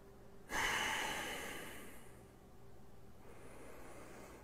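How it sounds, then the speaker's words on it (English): A box breathing exercise: one sudden, close, forceful breath that tapers off slowly over a couple of seconds, followed by a quieter, softer airy stretch, with no talking. "inhale all the way as much as you can and hold for that same amount of time, and then you exhale"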